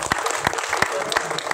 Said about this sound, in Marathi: अजून सुद्धा एकदा जोरदार टाळ्यांचा गजर करूया